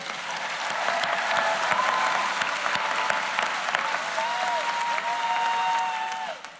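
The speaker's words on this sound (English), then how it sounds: "big round of applause to all of you." Large crowd at a school of social work convocation applauds graduating students, a sustained, thick roar of clapping that swells and stays loud for several seconds, with faint whistles or cheers threading through.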